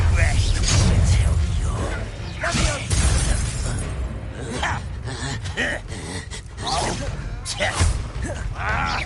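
Spell casting in the video game Hogwarts Legacy, the Glacius ice charm and Confringo fire curse, heard as bursts, crackles and whooshes piled over dense combat din, with characters talking throughout.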